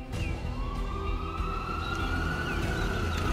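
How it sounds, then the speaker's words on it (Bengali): An ambulance siren wails steadily, a loud rising and falling tone over rumbling traffic noise that continues through the whole stretch without pause, used as an effect in a Bengali detective audio drama. "মুহূর্তেই অ্যাম্বুলেন্সটা শব্দ করে চলে গেল"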